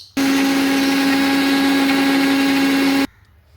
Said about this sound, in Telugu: వీటిని మిక్సీ పట్టుకుందాం.